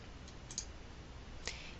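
Two faint mouse clicks sound on software buttons in a load-modeling program, brief dry taps about a second apart over a low steady background hiss.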